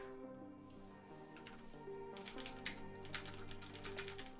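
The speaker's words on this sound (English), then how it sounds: "Why is my keyboard not working?" A computer keyboard clatters with quick, irregular typing keystrokes, close and fairly faint over a soft tonal background.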